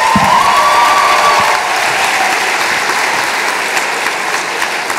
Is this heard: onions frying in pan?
no